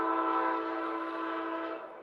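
A train horn blares loud and steady, holding a sustained multi-tone chord for about two seconds as a train passes, fading slightly toward the end, with no voices.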